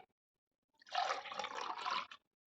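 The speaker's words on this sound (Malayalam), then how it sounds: "മെല്ലെ ജ്യൂസ് ഒഴിച്ചെടുത്തേക്കാം." Raw green mango juice is poured into a glass in one brief, close, continuous splashing pour of about a second, framed by silence.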